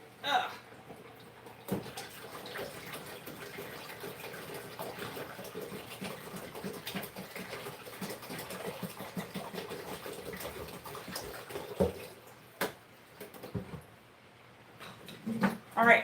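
Water pours steadily into a hydroponic strawberry reservoir, filling it from the bottom with a continuous close rush and splash that runs for most of the stretch, then ends in a few louder knocks.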